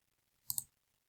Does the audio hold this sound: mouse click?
yes